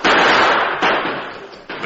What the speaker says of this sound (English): The killers rushed forward, pouring deadly gunfire into the blanket-wrapped figures.